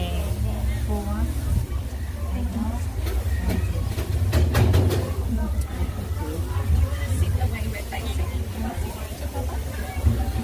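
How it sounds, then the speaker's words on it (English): A steam train ride on the Semaphore line, with a steady low rumble of the moving carriage, faint clicks of the rails and background chatter from passengers throughout. "Going in the train."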